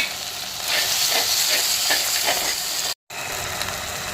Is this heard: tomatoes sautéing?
yes